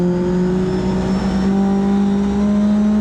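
Mitjet race car in a racing video game, the engine holding a loud steady drone with a rising harmonic whine as it accelerates, continuous and close throughout; no talking.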